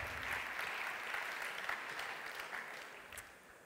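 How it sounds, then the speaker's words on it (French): Audience applause at the E-Commerce Awards 2014 prize-giving ceremony in France, a steady dense wash of many hands clapping that holds at an even level throughout with no voices. "merci encore, on peut l'applaudir, il reviendra tout à l'heure sur scène."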